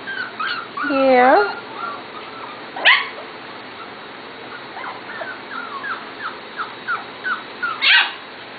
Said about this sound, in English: Just a really nice group of puppies.